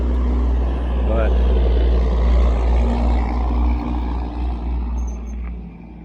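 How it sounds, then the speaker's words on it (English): Several cars pass on a road near a cyclist riding an electric bike, a steady broad rumble of traffic that swells and fades with wind-like roar throughout, with no talk. "wait, let some of these cars go by"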